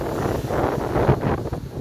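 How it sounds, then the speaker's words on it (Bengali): A strong wind gusts across Lake Michigan, buffeting the microphone in a loud, steady rush with waves churning underneath and no speech. "মিচিগান লেকে আজকে ভয়ঙ্কর হাওয়া"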